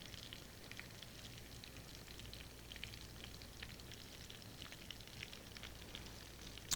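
Shrimp frying in oil in a pan at medium-high heat, a steady, faint crackling sizzle with scattered pops throughout, no talking.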